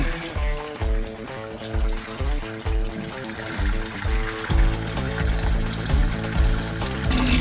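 Steady trickling and pouring water flushes sediment out of a 1965 Mustang engine block for several seconds, with a rhythmic thumping and droning mechanical hum mixed in underneath.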